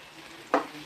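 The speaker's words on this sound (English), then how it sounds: "The garlic is already getting brownish." Garlic stir-frying in a pan, a faint background sizzle cut by one short, sharp stirring scrape, close and brief.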